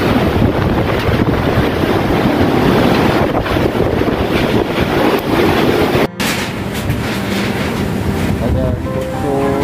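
Strong, roaring wind of Super Typhoon Odette buffets the microphone continuously, with a brief cut midway, then steady gusty rushing and faint background voices.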